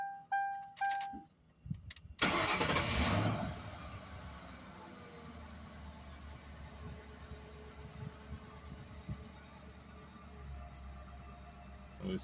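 A warm Ford Crown Victoria engine cranks and starts with a loud burst, then settles into a steady low idle that runs on; a few clicks and jingles come before it.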